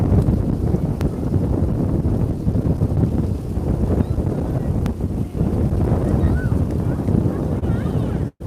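Strong wind gusts outdoors, roaring and buffeting against the microphone as a steady, loud rumble with brief dips, while someone speaks loudly over it.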